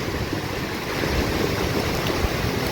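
Strong floodwater rushing down from higher ground in Bocaue, Bulacan, carrying large stones; a loud, steady, broadband roar of churning water fills the whole stretch, with no voices.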